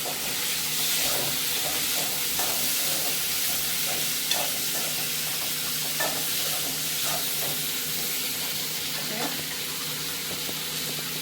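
Onion and tomato fry in a pan for chana masala, giving a steady loud sizzle broken by small clicks and scrapes of stirring.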